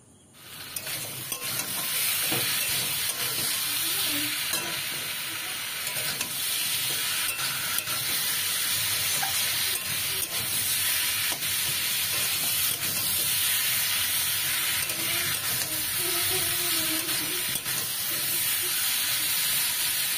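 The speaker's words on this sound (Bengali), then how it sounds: "এরকম বেশ একটু ভাজা ভাজা করে নিতে হবে আমটা।" Mango pieces fry in a hot pan, a loud continuous sizzle and hiss with scraping stirs throughout, close up and steady with no talking.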